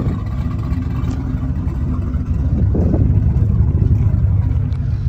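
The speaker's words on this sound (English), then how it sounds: "we're inside the truck with the cutout open. And it's loud." A loud, rumbling truck engine drones steadily from inside the cab with a Flashark electric exhaust cutout open, its deep exhaust growl building slightly partway through.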